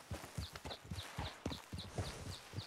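Horse hooves clip-clop in a steady walking rhythm, about two beats per half second, close and moderately loud with no voices over them.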